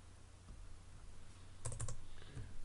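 Quiet keyboard typing, a short burst of several quick key clicks with a couple more taps after, over a low steady background hum.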